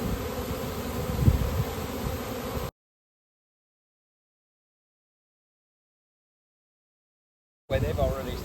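A honeybee swarm hums in a dense, steady buzz up close, cut off abruptly by several seconds of dead silence before the buzzing returns.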